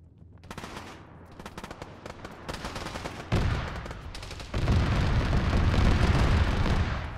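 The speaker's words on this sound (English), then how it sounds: "Auto cannon fire down the road" Rapid bursts of heavy automatic cannon fire in an Arma military game, growing louder and denser with booming impacts, continuous rumbling gunfire throughout.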